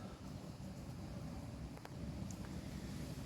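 Steady outdoor wind gusts buffet the microphone in a continuous low rumble, heard during repair work on a Mercedes T1 207d van, with a couple of faint light knocks partway through.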